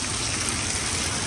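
Steady rain falls outdoors beside a roadside stop, a dense, even hiss that never lets up across the moment, with no voices over it.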